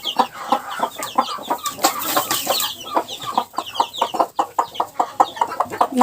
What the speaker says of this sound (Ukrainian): це перший признак, що квочка готова бути мамою, коли вона зве курчаток